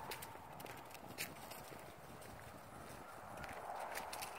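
A horse named Atlas walks along a mountain trail, its hooves clip-clopping in a faint, steady rhythm under light outdoor background noise.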